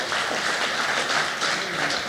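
Audience applause at a media briefing unveiling a new fossil human ancestor species in Maropeng, Johannesburg, a steady dense wash of clapping from a sizable crowd that holds even and fairly soft throughout.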